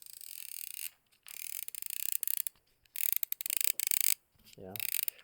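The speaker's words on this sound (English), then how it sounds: "the ratchet on this one sounds really nice in my opinion" A Snap-on ratcheting screwdriver clicks in fast, dense bursts of ratchet ticks, several runs separated by short pauses, close and fairly quiet, with a brief low thump near the end.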